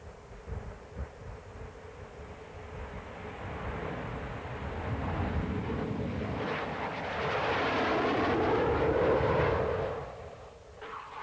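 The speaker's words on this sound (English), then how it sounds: "the Jaguar has proved to be a highly potent attack aircraft, specializing in low-level," A SEPECAT Jaguar attack jet roars past, its engine noise building steadily to a loud, broad peak before fading quickly, over an otherwise constant background rumble.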